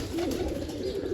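Pigeons cooing steadily at close range, a low continuous burbling from a domestic flock, with no talk; no clear wingbeats stand out.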